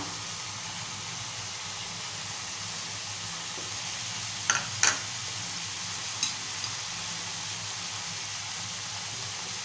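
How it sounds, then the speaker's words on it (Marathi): Soaked chana dal tipped into sautéed cabbage in a pan, with a steady low sizzle and hiss running throughout and a few brief bright clinks of a spoon against the pan partway through. "आता आपण भिजवलेली चणा डाळ घालूया"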